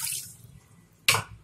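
Water is poured onto half a cup of washed green gram for cooking, a brief, bright splash near the end after a quiet stretch with a faint drip at the start.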